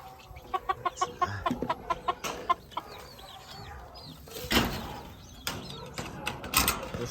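Free-range native chickens cluck and call in a series of short bursts, with a louder squawk midway and scattered clucks continuing, close by and fairly busy.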